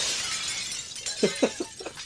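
Glass shatters in the Hall of Justice in Suicide Squad: Kill the Justice League, a hissing crash followed by several sharp tinkling impacts of falling shards in the game.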